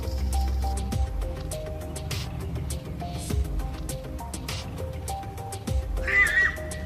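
A horse that touched an electric fence while playing with a child lets out a sharp, high whinny near the end, heard over steady background music.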